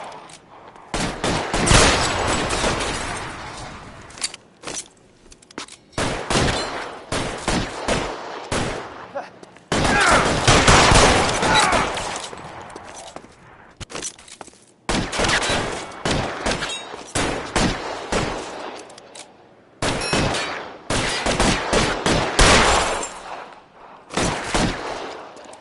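Bursts of rapid gunfire rattle through a shootout in the video game LA Noire, several dense volleys separated by short pauses, loud and close throughout.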